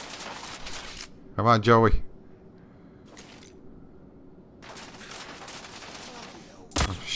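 A sharp burst of gunfire in the video game The Order: 1886 rings out between stretches of talk, with a single loud shot near the end, while someone speaks over the game.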